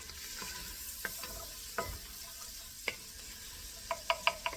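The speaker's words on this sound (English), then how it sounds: "Now the onion, they have caramelized. I'm going to add the garlic for just probably 1 minute" Garlic fries in a pan with caramelized onions, a steady soft sizzle broken by scattered scraping clicks as a utensil stirs the mixture, fairly quiet and close.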